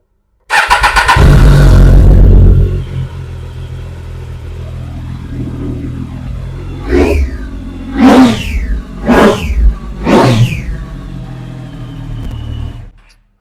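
A sport motorcycle for sale at a preowned bike dealer starts with a loud cranking catch and settles into a rumbling idle. It is then revved in four sharp throttle blips, close by and alone.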